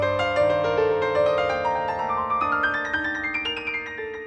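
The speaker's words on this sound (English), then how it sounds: "So we can take a boring, lifeless piano sound like this," A dry piano with no reverb plays a short melodic phrase over held bass notes, each note clear and close, decaying naturally without any room tail.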